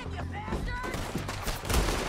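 Gunfire erupts in a Red Dead Redemption 2 shootout, with a fusillade of shots in close, overlapping bursts mixed with game audio and some talking.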